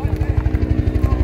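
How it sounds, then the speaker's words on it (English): A helicopter passes over an outdoor pickleball tournament, its rapid rotor thumping pulsing loud and close for a brief moment while a voice talks over it. "Helicopter."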